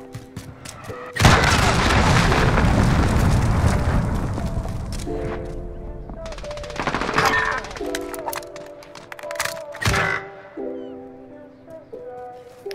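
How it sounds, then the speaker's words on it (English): Cruise missile strike in Call of Duty Modern Warfare multiplayer: a sudden heavy boom erupts early and rolls into a long rumbling roar, then fades under scattered thuds, game music tones and bursts of gunfire. "Enemy cruise missile incoming."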